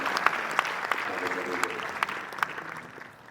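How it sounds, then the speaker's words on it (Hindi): An audience at a spiritual discourse claps together, with separate sharp claps standing out in a loose rhythm over a softer crowd bed, as a faint murmur of voices runs underneath. "अरिहंत ग्रुप के लिए ताली बजा के अभिनंदन अभिनंदन अभिनंदन।"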